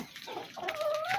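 A chicken clucks close by in a short burst, its sharp calls rising into a drawn-out, squawking tone against a quiet farmyard background.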